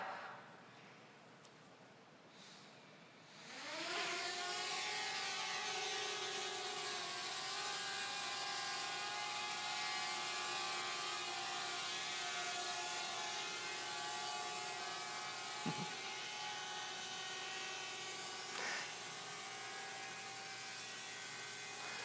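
A drone flies during a live on-stage demo at the Microsoft Build 2018 keynote. Its steady, high rotor whine starts a few seconds in and holds loud and constant to the end, with no talk over it.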